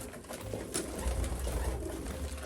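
Homing pigeons coo softly inside a pigeon loft, low, murmuring calls rising and falling continuously under a steady background hiss.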